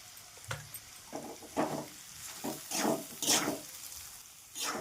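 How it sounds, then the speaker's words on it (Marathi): Turmeric, garam masala and salt fry with broad beans in a hot pan, giving a soft background sizzle broken by repeated scraping stirs and bursts of crackle at an uneven rhythm, with no voices. "मस्त फ्राय करून घ्यायचं."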